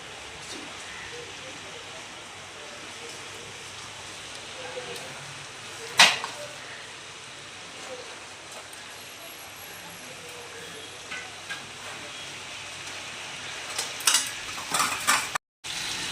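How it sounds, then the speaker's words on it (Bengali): Salt-and-turmeric-coated hilsa fish pieces fry in a pan with a soft continuous sizzle, broken by a few clinks and scrapes of a utensil against the pan; a voice talks over it. "এবার একে একে এই নুন হলুদ মাখানো ইলিশ মাছগুলো বসিয়ে দেবো"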